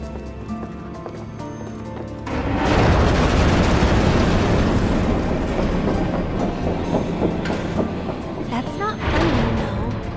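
Train running in the video game Final Fantasy VII Remake, a loud, continuous rumbling roar with rattling bursts that swells after a quieter start, mixed with game music and layered effects.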